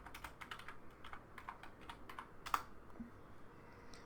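Quick, quiet typing on a computer keyboard, a burst of irregular key clicks at close range with a slightly sharper keystroke near the end, then a pause.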